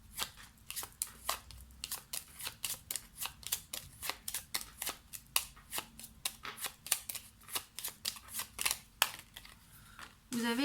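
Tarot cards handled on a table, a rapid series of crisp flicks and slaps like shuffling, fairly close, with a voice at the very end.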